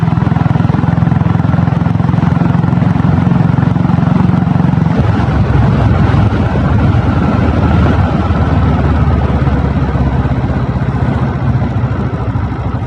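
A 7.5 hp self-start diesel Royal Enfield Bullet motorcycle thumps steadily while being ridden. The loud, close engine drone runs throughout with wind rumble, and its note shifts lower about midway.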